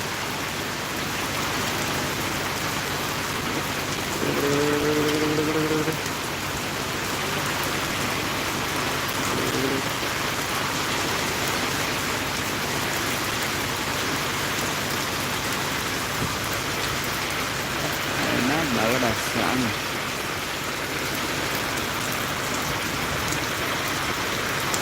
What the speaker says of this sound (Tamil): மழை மழை பெய்யுதுங்க எங்கள் ஊரில்